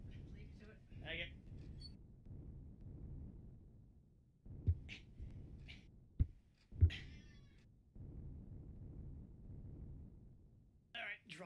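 A pet cat meows in short bursts, several brief calls scattered across the span, over a steady low rumble of in-game driving from a space-survival game.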